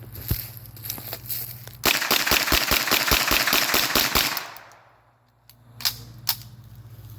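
Uzi submachine gun fired outdoors in a rapid burst of about a dozen evenly spaced, sharp close shots lasting under three seconds, followed by quiet and a couple of isolated distant pops.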